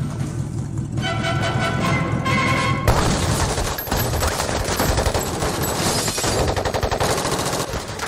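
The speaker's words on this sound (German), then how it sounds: "sie seien vor Hamers Männern geflohen und dabei erschossen worden" A dense volley of rapid gunfire, staged as a sound effect for the 1934 Bonnie and Clyde ambush, rattles on loud and continuous for about eight seconds, with a brief tonal passage early on and no speech.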